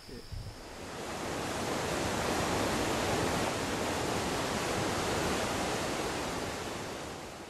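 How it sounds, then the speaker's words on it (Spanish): Steady wind rushes outdoors in an Andean setting, a dense, loud, unbroken roar that holds evenly for several seconds with no voices over it. "particularmente aquí también podemos escuchar el viento"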